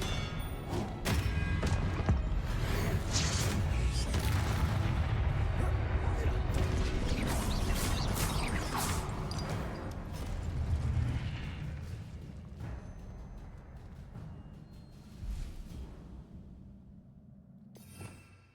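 Spell impacts and explosions burst in the video game Hogwarts Legacy, a run of dull thuds and crackling blasts that rise and fall over about eighteen seconds, with a voice speaking in places.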